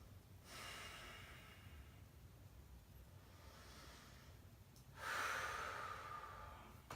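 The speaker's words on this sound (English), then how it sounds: "2 recovery breaths." Two deep recovery breaths during a hamstring exercise are heard up close, first a long airy inhale and then a stronger, louder exhale, with no speech.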